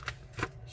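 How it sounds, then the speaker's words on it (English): Sheet of paper pressed flat and creased while folding an origami airplane, two short crisp rustles about a third of a second apart, quiet and close with no talking. "Let's press down the paper."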